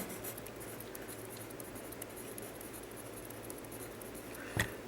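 A pen or marker writes by hand through a statistics lecture, producing a soft continuous scratchy rubbing with faint strokes and a single sharp tap near the end, close and fairly quiet.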